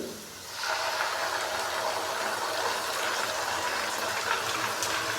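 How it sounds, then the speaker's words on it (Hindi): Ginger, garlic and green chili paste hitting hot oil with frying onions, giving a loud, steady hiss of sizzling that starts abruptly and holds evenly close by. "अभी मैं इसके अंदर अदरक लहसुन और सब्ज़ी मिर्च का पेस्ट डालूंगा"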